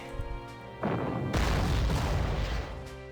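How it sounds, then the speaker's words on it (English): Artillery fires in a WWII strategy game set at Danzig: heavy booming blasts erupt one after another into a dense, rumbling barrage that swells and lingers, with no talk. "Plan your artillery hits carefully."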